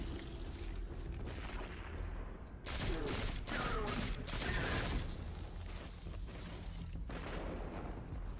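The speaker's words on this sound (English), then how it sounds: "I heard you with your grenade launcher." Grenade launcher fire and explosions in the sci-fi shooter Destiny 2 beta, with a Warlock Dawnblade, sounding as dense repeated booms and rapid gunfire bursts, loud and continuous throughout.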